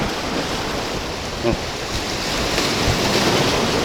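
Strong storm wind roars and howls around a pier on the Black Sea at Odesa, mixed with the rush of surf, a loud, unbroken stormy noise.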